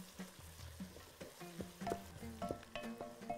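Chopped onion frying in a pan for Bahraini biryani, steady sizzling broken by repeated scraping and stirring clatter, close and fairly loud with no voices.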